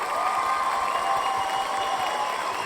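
Canned applause and light cheering played from a soundboard during a podcast recording, steady and dense for a few seconds.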